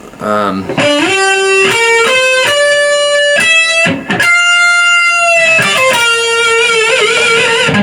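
A distorted electric guitar plays a sliding, sustained lead phrase with bends and held notes, loud and up front with no talking.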